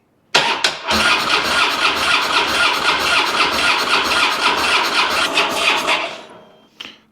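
A 2006 Harley-Davidson Dyna motorcycle engine, fitted with new spark plugs, cranks loudly and steadily for about six seconds with a rough, churning starter rhythm, then cuts off, followed by a brief short burst.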